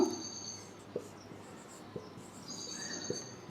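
Chalk or marker writing a sentence on a classroom board, heard as faint, sparse taps and scratches in a quiet room with a thin high background whine.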